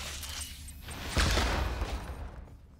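A Reaper grenade detonates in StarCraft 2, giving one short muffled boom among the background rumble of battle.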